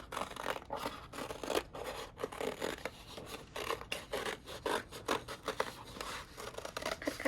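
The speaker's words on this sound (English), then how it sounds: "And then we're gonna do is cut around the side of this fun circle" Scissors cut around a paper circle for a paper hot air balloon craft, making a continuous run of close, rhythmic rasping snips and rubbing strokes.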